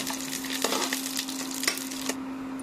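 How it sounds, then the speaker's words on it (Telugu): Garlic cloves, chana dal and urad dal frying in oil over a low flame, giving a steady close crackling sizzle with a few louder pops and stirring clinks, no voices. "ఇప్పుడు వీటిని లో ఫ్లేమ్లో కాసేపు వేగనివ్వాలి"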